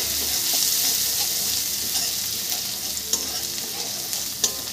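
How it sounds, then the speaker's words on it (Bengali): Garlic paste hits hot oil in a pan and fries with a steady, close sizzle, broken by a few sharp stirring clicks. "তেলও গরম হয়ে গেছে, আমি দিয়ে দিচ্ছি রসুন বাটা। রসুনটা একটু ভেজে নেব।"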